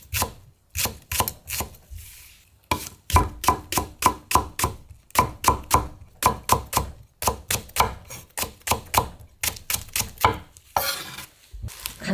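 A knife chops green onion (daepa) on a cutting board for kimchi, with crisp, rhythmic strikes in quick bursts separated by short pauses, close and clear, with no talking.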